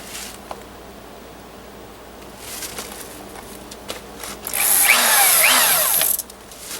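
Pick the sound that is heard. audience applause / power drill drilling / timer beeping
power drill drilling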